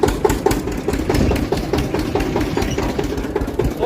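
A tractor engine runs steadily on a farm track, loud and close, with a rough rattling vibration throughout and no talk.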